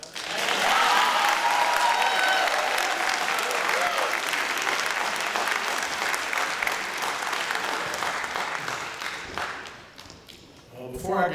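Loud, sustained applause from a crowd at an eighth grade promotion ceremony honouring the student speakers, dense clapping with scattered voices that thins and fades near the end.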